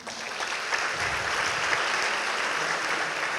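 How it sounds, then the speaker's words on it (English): An audience at a graduation ceremony applauds a presenter, steady mid-distance clapping that holds at an even level throughout. "Round of applause for him."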